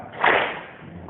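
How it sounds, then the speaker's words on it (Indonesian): A single sharp unison clap from a group of scouts at a pesantren gathering, one loud burst that quickly fades into a low murmur of background noise. "Tepuk tunggal."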